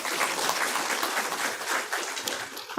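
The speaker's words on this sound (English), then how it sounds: "Please welcome them with a huge round of applause." Dense, sustained applause from an audience in a hall at an engineering event, a steady wash of many hands clapping with no pauses throughout.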